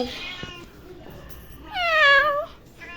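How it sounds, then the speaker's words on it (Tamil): A cat lets out a single clear, close meow that rises and falls in pitch, preceded by a few faint soft sounds and quiet background noise. "பூனை"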